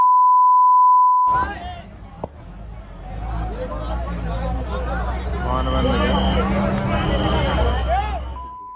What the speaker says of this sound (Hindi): ये बीप इसमें इसलिए है क्योंकि वहां गाली है।